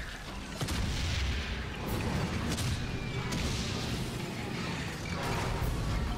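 Tank and artillery fire in the World War I game Valiant Hearts: The Great War, with a dense, continuous low rumble and several sharp booming blasts spaced a second or two apart, loud and with no talk.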